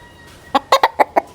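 A Tornado hatch gamecock clucks five times in quick, sharp bursts, close and loud, after a brief quiet moment.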